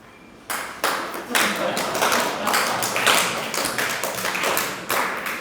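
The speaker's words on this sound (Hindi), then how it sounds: "ताली क्यों बजा रहे हो?" An audience claps in a lecture hall, a burst of applause that starts abruptly and keeps a steady rhythm to the end, fairly close.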